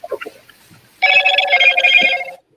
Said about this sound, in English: I'm receiving phone calls today